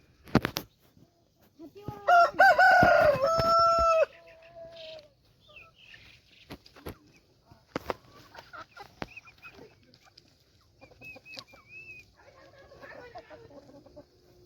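Desi and Kaveri breed chickens outdoors: a rooster crows loudly near the start, then scattered clucks and calls follow at close to mid distance, with faint background sounds.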